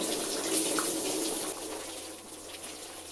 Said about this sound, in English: Then it's just a case of pull the hose and watch your garage get flooded.